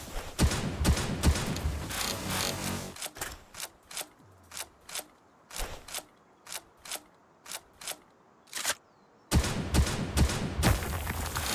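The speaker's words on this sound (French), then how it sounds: "La meilleure manière de miner une météorite. À coup de fusil." Gunshots firing at a meteorite to mine it in the game Palworld: a dense burst of rapid fire, then about a dozen evenly spaced single loud shots, then another heavy volley, all without voices.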